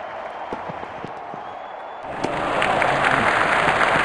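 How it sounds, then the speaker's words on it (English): A cricket stadium crowd erupts after a batsman hits a six, the roar swelling suddenly and then holding loud and broad. Scattered claps and murmurs come before it. "Crowd going mad here."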